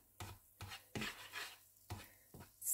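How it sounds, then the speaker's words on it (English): Butter warms in a frying pan while mashed potatoes are being made. A utensil makes several separate stirring and scraping strokes against the pan, heard close and fairly quiet over a faint sizzle, with no talk. "So we warm the butter."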